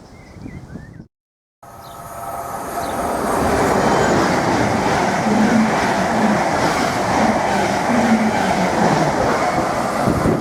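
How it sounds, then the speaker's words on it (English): A Class 745 passenger train, unit 745001, races through platform 2 of a station, building from a distant approach into a loud, sustained rush of wheels and rail clatter with a faint squeal. "745001 has just raced through platform 2 en route to London Liverpool Street"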